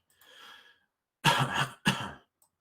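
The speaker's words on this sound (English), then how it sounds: "Excuse me for coughing." A soft breathy exhale, then two sharp, close coughs in quick succession.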